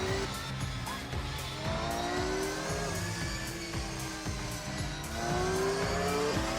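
Race cars, including a GT-RS road car against a GT3 race car, scream around a track in a racing video game, engines revving steadily with repeated gear-shift dips and tire noise, loud and continuous without speech.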